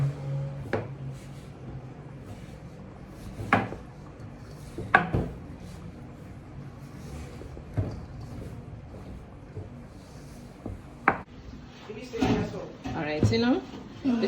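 Coconut dough for gizzada being mixed with a spoon in a bowl, heard as scattered knocks and scrapes of the spoon, with someone talking throughout.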